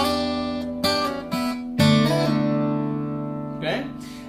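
An electric guitar plays a single sliding lick over a held bass note, with plucked notes at an uneven pace that ring out and slide between positions, close and clear with no voices.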